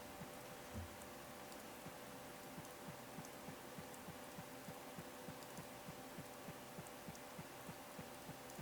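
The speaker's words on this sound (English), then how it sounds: "now I think the rainy season has begun" Steady rain falling in a video game set in a rainy season, a dense even hiss with faint drip ticks and a soft low hum, continuous and without talking.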